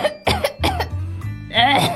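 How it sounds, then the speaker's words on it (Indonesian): A child coughs in a few quick bursts during a Sunday children's class, followed by a short throat-clearing sound, close to the microphone and indoors. "Aduh, aku batuk,"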